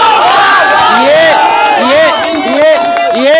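A large, loud crowd at a rally at Gandhi Maidan in Patna shouts in rising, repeated rhythmic calls, with many voices swelling together close to the microphone.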